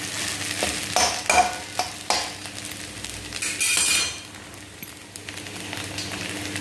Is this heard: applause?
no